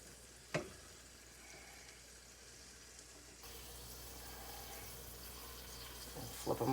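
Potatoes frying in a pan for potato boats, a soft, steady sizzle that grows slightly louder midway, with one sharp knock early on and clattering near the end.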